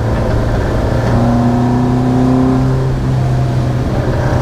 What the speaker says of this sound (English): I've just been trundling about,